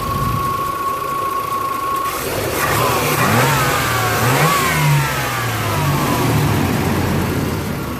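A 1991 GMC Jimmy S15 engine with about 170,000 miles runs steadily as it warms up, a close, continuous mid-pitched hum with rising and falling revs partway through. No one speaks.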